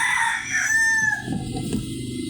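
A chick peeps in thin, high, whistling calls, one drawn out, close by during a haircut, with some low background rustle.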